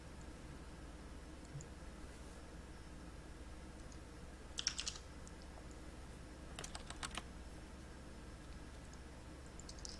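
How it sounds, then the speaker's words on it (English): Soft keystrokes tap on a computer keyboard over a low, steady background hum, with a short louder cluster of clicks midway and a brisk burst of several keys shortly after. "At this point, sorry, we're typing."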